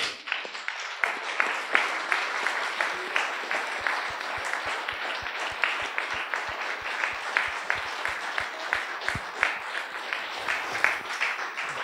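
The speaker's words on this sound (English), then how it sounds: "Please applause now." A lecture audience applauds after a talk on the global economy and Europe, dense sustained clapping filling the hall with a few sharp rhythmic claps standing out, continuing steadily for about twelve seconds.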